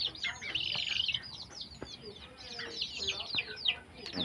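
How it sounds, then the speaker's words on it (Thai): Many chicks chirping and peeping continuously, a busy overlapping chorus of high calls with faint soft thumps underneath. "ลูกไก่"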